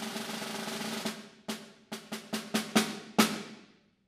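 Snare drum rhythm with rolled strokes restored: a sustained buzzing roll opens, then crisp separate hits with short roll swells between them, building to a loud accented final stroke that rings out, close and solo.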